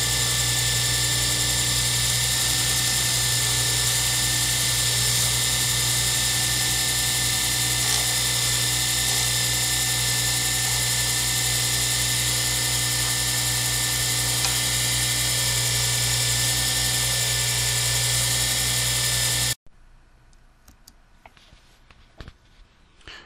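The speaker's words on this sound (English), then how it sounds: "You hear the engine, the motor of the lathe running" A wood lathe motor runs while turning a circuit-board pen blank, giving a steady, loud electric whine with no audible cutting, then cuts out abruptly near the end, leaving faint room noise.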